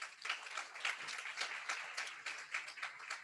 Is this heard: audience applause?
yes